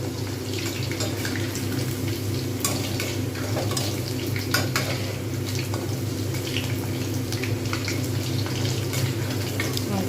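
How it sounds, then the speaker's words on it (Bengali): Chicken pakoda fries in hot oil with a loud, constant sizzle and bubbling, broken now and then by faint clinks of a utensil against the pan. "ভাজা হচ্ছে ঠিকঠাক কালার এসে গেলে ঠিকঠাক হয়ে গেলে কিন্তু এটাকে নামিয়ে নেব"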